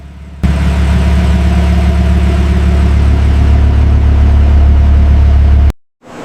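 An Audi RS6 engine and exhaust drone loudly and steadily, a deep continuous rumble that starts abruptly and cuts off sharply near the end, with no voices.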